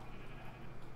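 Pink sheep in the Minecraft video game bleating, a steady, fairly loud one-second burst heard alone without talk.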